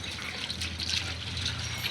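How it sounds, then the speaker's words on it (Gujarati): Water runs steadily from a tap or hose on a desi farm to fill a drinking vessel for a buffalo, a continuous trickling splash without a break and with no talk over it. "મિત્રો ભેંસને પાણી પવન કરી દીધું છે ચાલુ."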